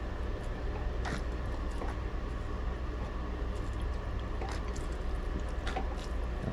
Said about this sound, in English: Then we're going to water it in